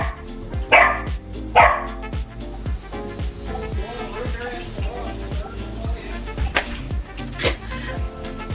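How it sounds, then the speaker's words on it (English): A dog barks repeatedly indoors in short, sharp bursts, close and fairly loud, while a person talks over it throughout. "Ruger, no barks! No barks"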